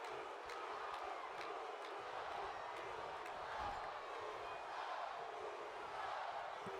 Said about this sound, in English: The crowd getting behind the Usos here.